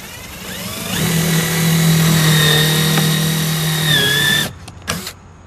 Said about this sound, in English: on one side, I'm going to go ahead and countersink it about halfway and not all the way down this time